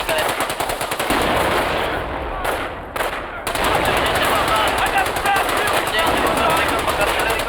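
Battle from the Company of Heroes World War II strategy game: dense, continuous machine-gun fire and gunshots with heavy blasts, loud and close, breaking only for a moment midway while voices talk over the fighting.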